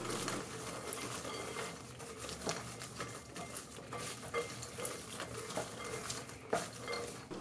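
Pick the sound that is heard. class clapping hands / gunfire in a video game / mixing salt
mixing salt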